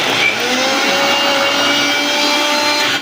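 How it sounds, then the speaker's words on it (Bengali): Kitchen mixer grinder whirring loudly as it purees chilli and tomato paste, a steady high-pitched motor drone running unbroken for a few seconds, close up with no voices. "এবার এটাকে আমি লঙ্কা দিয়ে আর টমেটো দিয়ে ভালো করে মিক্সিতে পেস্ট করে নেব"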